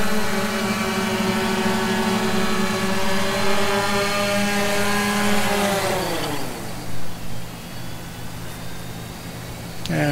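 A DJI Phantom drone fitted with landing gear skids hovers just after takeoff, its loud, close rotor whine holding steady pitch, then sliding lower and settling as the throttle eases back.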